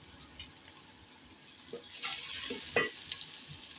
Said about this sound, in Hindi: साथ ही मुसलसल चम्मच चलाना है ताकि प्याज हमारे जल भी ना जाए